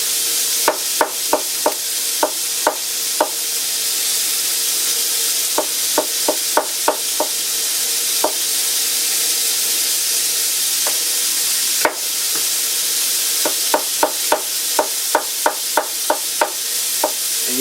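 Mushrooms saute in bacon grease in a cast iron pan, a steady sizzle broken by clusters of sharp clicks and taps from stirring, some close together and some spaced out, with no talking.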